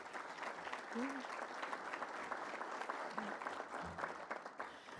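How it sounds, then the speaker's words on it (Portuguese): Attendees at a solemn city council ceremony applaud an honoured former councillor: steady, even clapping from a large crowd, heard faint and distant throughout. "Mais uma salva de palmas ao meu amigo Odair, ex-vereador dessa casa"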